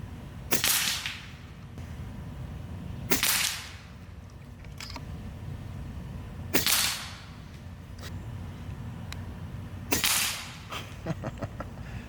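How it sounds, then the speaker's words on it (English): Four sharp, loud shots from an FX Leopard bullpup air rifle, fired at a target with 25.3 grain slugs, spaced a few seconds apart over a steady background hum. "5 shots through the same hole, getting duplicate numbers the whole time"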